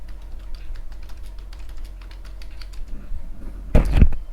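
Rapid keystrokes on a computer keyboard while setting up Revit MEP 2021 circuit naming, a steady patter of light clicks through the clip that ends in a louder burst of key presses.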